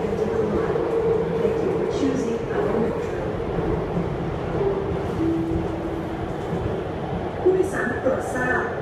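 Bangkok metro train rolling with a steady low rumble and rail hum, a continuous close interior-style drone with brief brake squeal tones and faint chatter of people underneath.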